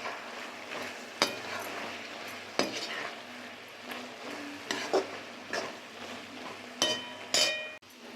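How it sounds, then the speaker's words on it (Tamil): A metal spoon stirs a sizzling ivy gourd (kovakkai) masala stir-fry in a pan, with repeated scraping strokes and sharp clinks against the pan over a steady frying hiss, close and fairly loud. "போட்டு நல்லா கலந்து விட்டுடலாங்க"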